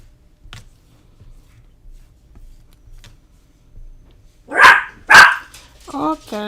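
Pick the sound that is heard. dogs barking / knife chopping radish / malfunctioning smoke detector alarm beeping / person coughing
dogs barking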